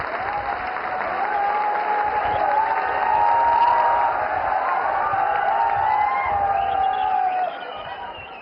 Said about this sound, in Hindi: हमारे यशस्वी प्रधानमंत्री माननीय श्री नरेंद्र मोदी जी को तालियों के साथ उनके विशेष संबोधन के लिए आमंत्रित करते हैं।